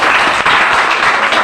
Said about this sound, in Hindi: तो एक बार प्रेमचंद जी के लिए ताली बजाइए आप लोग